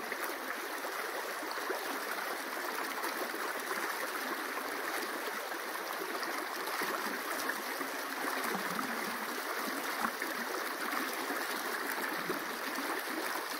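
The Weld River flows with an even, unbroken rushing hiss, a soft steady wash of moving water with no voices over it.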